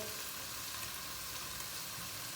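Eggplant frying in a hot pan gives a steady, close, bright sizzle with dense crackle throughout, no voices.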